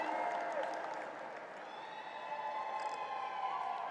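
An audience at a diversity awards ceremony cheers and applauds, a fairly faint, steady wash of clapping and shouting that holds throughout with a soft, distant quality.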